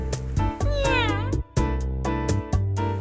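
A black cat meows in the video game Dandelion: one clear, wavering meow rises and falls over steady, rhythmic background game music that fills the whole stretch.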